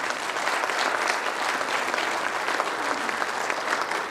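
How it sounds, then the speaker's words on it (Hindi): Loud, steady applause from a large audience at a mass meeting marking India's 75th Independence Day, dense clapping sustained without a break for about four seconds and no talking over it. "इसके लिए जोरदार ताली बजाई जाए।"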